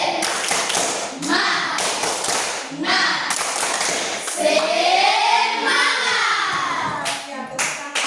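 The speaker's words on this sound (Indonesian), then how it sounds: "Kita tepuk semangat." A classroom of children performs a rhythmic 'tepuk semangat' clapping chant: bursts of sharp group claps alternate with chanted young voices in a steady pattern, close and lively.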